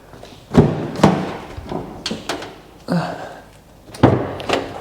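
Several dull thuds and clunks from a van's rear doors being opened, spaced irregularly with rattles between them, close by. The van came from a salvage auction and has big drawers fixed inside the back.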